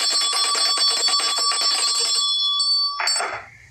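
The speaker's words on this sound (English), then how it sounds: "Let me ring a bell for you." A bell rings in a rapid, steady series of strikes for about two seconds, then one sustained ringing tone lingers and fades. Near and fairly loud, with a brief rustle at the end and no talking.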